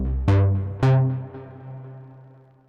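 A riffing synth patch with a subtle delay and a long reverb, two bright plucked notes whose tails linger and fade slowly with soft echoes, close and alone, no talking.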